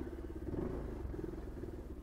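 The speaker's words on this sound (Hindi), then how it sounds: "तो बाइक स्टार्ट कर लेते हैं" A motorcycle engine in Kishtwar runs with a low, quiet, even rumble and a faint clatter throughout the short stretch, with no voices.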